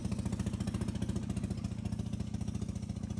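A motorcycle engine chugs in a fast, steady rhythm while being ridden along a dirt road in the dry season, loud and close throughout.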